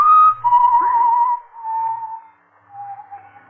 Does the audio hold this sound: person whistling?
yes